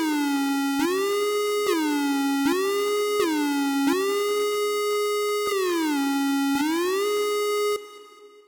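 A VPS Avenger software synthesizer playing a bright, buzzy tone whose pitch swoops up or down into each note through a curved pitch-bend envelope, repeating about eight times in a steady rhythm, loud and alone.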